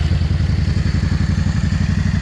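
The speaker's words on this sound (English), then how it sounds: "I'll let you hear the custom exhaust on here." A 2005 Yamaha V-Star 650, a carbureted bike with a custom exhaust, idles up close with a loud, deep, lumpy rumble that pulses in a rapid, steady beat, heard alone.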